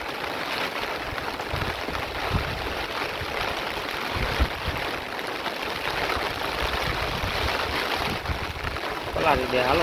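Strong wind buffeting the microphone during a rainy outing near water, a steady loud roar of gusts throughout with voices talking underneath.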